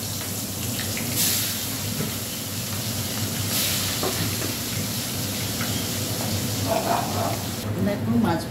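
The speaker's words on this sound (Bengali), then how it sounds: "দেখো, মাছ ভাজা হয়ে গেছে" Rohu fish pieces fry in a pan, a low continuous sizzle and hiss with occasional clatter and bursts of louder spitting, heard fairly close and quiet with no talk.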